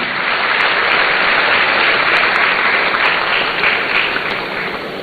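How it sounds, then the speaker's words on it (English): Loud, continuous applause from a room full of people at a student entrepreneurship programme launch, a thick uniform roar of clapping that stays strong before easing slightly at the end. "I want you to give yourself a round of applause"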